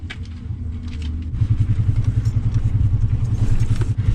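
Stock Ford Triton 5.4 engine under 14 psi of boost failing on a dragstrip, a rough, loud mechanical clatter and rapid knocking rattle building over a low engine drone.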